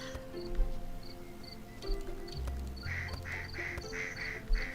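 Cartoonish duck quacks from a ranch and farm simulator game, repeated in quick bursts over light game background sounds, moderately loud and close.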